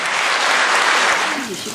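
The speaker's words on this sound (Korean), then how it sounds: "여러분 따뜻한 박수 부탁드립니다." Warm applause from an audience at a Sewol ferry remembrance gathering in Korea, a dense steady wash of clapping, close and loud throughout, with a faint voice surfacing near the end.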